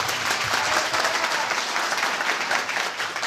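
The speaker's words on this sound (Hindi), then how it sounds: "ताली बजाइए प्रभु के लिए जोर से।" A large audience gathered for a spiritual talk bursts into loud, dense applause, a continuous wash of many hands clapping at once without pause.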